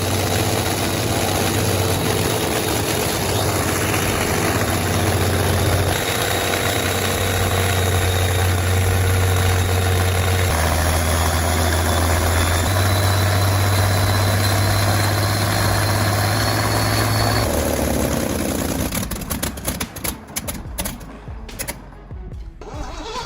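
A Daimler-Benz DB605 WWII German fighter aircraft engine idles after a restart, loud and close, a steady deep throbbing drone with shifting low tones, breaking into rough uneven sputters near the end.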